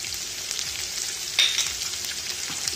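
Minced meat fries in a pan with salt and black pepper for a lentil and mince pulao, giving a soft, steady sizzle and crackle with a brief louder stir midway.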